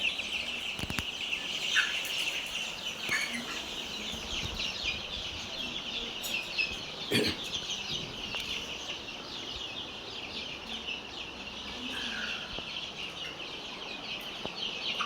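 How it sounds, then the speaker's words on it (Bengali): Tiger and farm chickens alongside Japanese and European quail chicks, a steady chorus of soft clucks and high chirping calls with occasional louder bursts, close by and continuous. "এখানে টাইগার মুরগি আর ফার্মা মুরগি আর কোয়েল পাখির বাচ্চা আছে"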